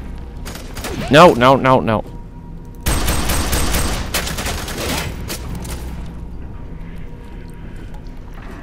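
Gunfire in the shooter game F.E.A.R. 3 comes as a loud burst of rapid shots after a brief vocal sound, then fades into quieter background noise.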